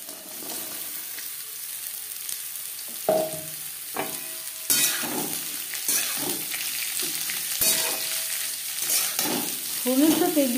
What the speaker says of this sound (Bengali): ফোড়নের সাথে বিট গাজর বেশ ভালো করে মিক্স করে দেব।